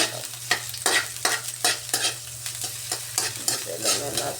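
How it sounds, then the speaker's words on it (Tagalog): Vegetables sautéing in a pan, with steady oil sizzle and a quick, rhythmic series of utensil scrapes and stirs, close and fairly quiet, no voices. "Magigisa lang tayo mga kasipag."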